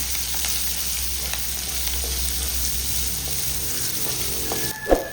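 Steady sizzling of onions, curry leaves and dried chillies frying in a pan, continuous and close, with a small clink near the end.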